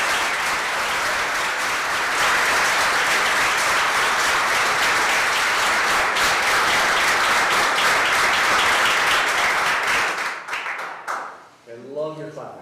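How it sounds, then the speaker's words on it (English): Sustained loud applause from an audience filling a city council meeting room, steady clapping for about ten seconds before it thins out and fades, followed by a few faint voices. "I love your clapping."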